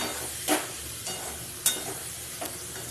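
Soybean chunks frying with onion, garlic and spices in oil give a steady sizzle and hiss, broken by a few distinct scraping stirs close by, with no talking.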